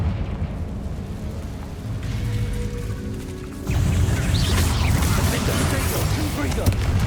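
A Confringo blasting curse going off in Hogwarts Legacy, a sudden loud burst partway through that leaves a sustained roaring rumble, with a voice heard in the scene.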